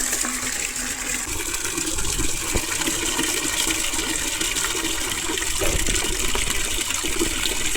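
Water gushes into a large bucket while a bio fertilizer mix is being prepared, a steady splashing pour heard close and continuously with a couple of light knocks.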